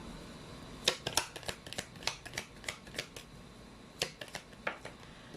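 A deck of tarot cards being shuffled in a quiet room: a run of crisp, papery riffles and flicks arriving in uneven bursts, then a short pause before another cluster of snaps. No one speaks.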